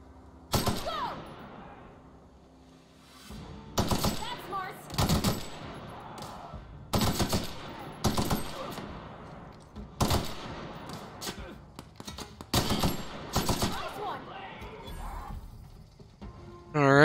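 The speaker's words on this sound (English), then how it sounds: "Let's try this gun here." Bursts of gunfire from a gun in The Outer Worlds video game, a dozen or so sharp loud volleys spaced a second or two apart with quieter gaps between, close and punchy.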